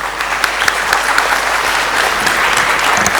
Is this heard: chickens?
no